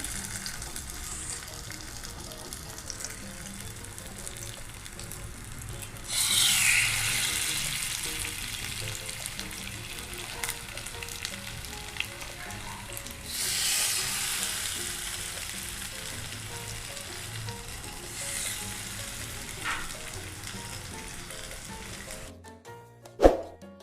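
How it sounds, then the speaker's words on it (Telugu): Fish fries in hot oil for a crispy fish fry, giving a steady sizzle that swells louder twice as pieces are added or turned, ending with a sharp knock. "ఇప్పుడు ఆయిల్ వేసుకున్నాం కదా, ఫిష్ పెట్టుకుందాం."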